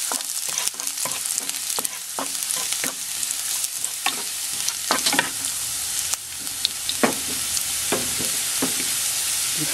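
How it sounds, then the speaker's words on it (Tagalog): Garlic frying in a tablespoon of hot olive oil for lasagna pasta, a loud, dense sizzle with frequent sharp clicks and scrapes of stirring scattered across the whole stretch. "Then, mainit na ito, lagay po natin itong garlic. So, hintay nating mag-brown yung garlic."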